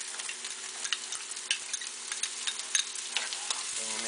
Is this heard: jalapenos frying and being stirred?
yes